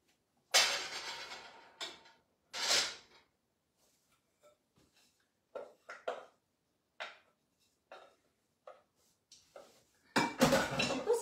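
Marinated tofu dropped into a frying pan with no fat, a few scraping and clattering bursts of pan and utensil separated by quiet gaps, then a louder rush of movement at the end.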